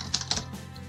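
Fingers tap a few quick keystrokes on a MacBook keyboard, with short, soft clicks close by in quiet surroundings.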